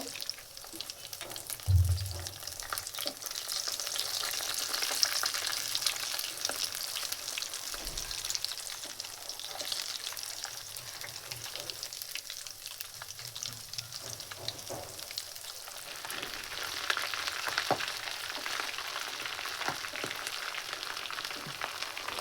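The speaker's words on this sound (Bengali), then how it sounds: "এটাকে ডবল কোটিং করা হয়েছে, ডুবো তেলে ভেজে নিতে হবে" Double-coated egg chops deep-fry in oil, a continuous bubbling sizzle that crackles steadily throughout, with a few soft clinks of a utensil against the pan.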